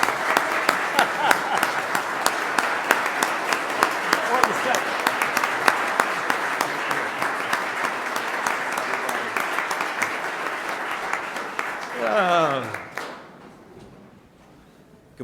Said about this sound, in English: please give a warm welcome, round of applause for our County Executive, Ryan McMahon III.